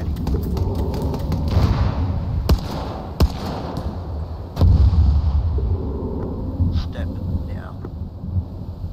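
Artillery fire from a distant battery in the video game Arma 3 strikes a shed, heard as a rumbling barrage of booms with sharp cracks and a heavy blast midway, under faint radio chatter.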